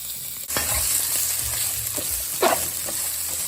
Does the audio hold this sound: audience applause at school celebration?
no